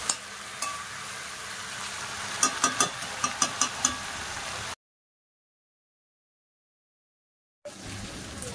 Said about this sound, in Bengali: এবার একটু কষে নেবো ভালো করে।